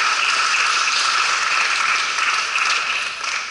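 Audience at a piano recital applauds steadily, a dense, loud wash of clapping hands that holds for several seconds with little variation.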